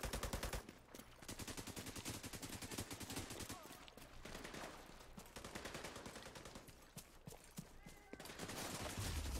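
Rapid bursts of automatic gunfire from a cover-based shooter game, The Division, crackling continuously at moderate distance with a few brief gaps.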